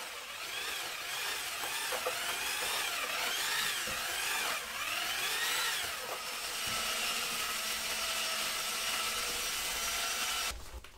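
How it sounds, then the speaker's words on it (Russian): Dry sand-concrete mix for art concrete is churned by a power mixer with a steady, loud whirring drone and scraping texture, running continuously throughout before stopping at the end. "Начинаю потихоньку замешивать."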